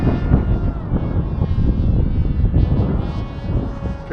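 Strong gusts buffet the microphone during an FT Explorer model plane flight in wind above 10 mph, a loud continuous rumble of wind noise with a faint motor whine underneath.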